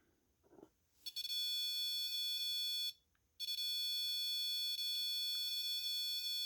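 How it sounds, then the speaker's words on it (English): A REM pod ghost-hunting device sets off its alarm, a loud steady electronic tone with a sharp start, a brief cut-out, then resuming, heard close and alone. "I just set the sensitivity on the REM pod, and it started going off again."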